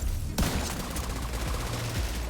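Gunshots in The Division 2, a sharp opening crack followed by rapid repeated firing, loud and close against ongoing game noise.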